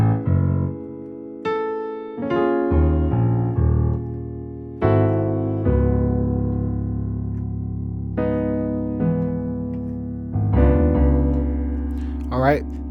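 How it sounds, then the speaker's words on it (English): Piano plays a bass line variation for a song, low notes moving under sustained chords in a slow, steady progression, clear and unaccompanied. "the first variation of how you can do the bass line is like this."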